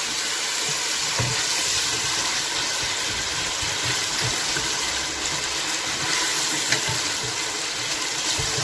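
Whole spices and salt fry in hot oil, producing a continuous, even sizzle with a soft low rumble underneath and occasional faint stirring taps.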